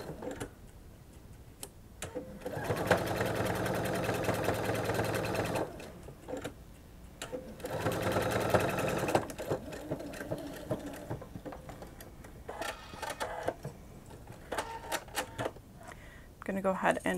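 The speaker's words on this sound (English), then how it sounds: "I'm going to finish sewing this line" A sewing machine stitches a seam on a frog-shaped plush toy in bursts of rapid, even mechanical clatter, pausing between runs, with brief talking in the gaps and quiet handling noises.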